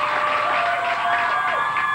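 Studio audience applause and light cheering at a live music television interview, a dense, steady crowd clapping with a faint tonal whine running beneath it.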